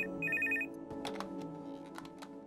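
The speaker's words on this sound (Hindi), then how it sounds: "कितनी देर से आपका फोन बज रहा है" A telephone rings indoors with a short electronic trill early on, fairly clear and moderately loud, followed by scattered household clatter and light background noise.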